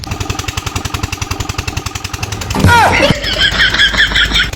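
A farm water pump engine in a rice paddy field, thudding in a fast, loud rhythmic knock, then a sharp squeal and surge as it revs up and settles into a harsher, sustained running roar.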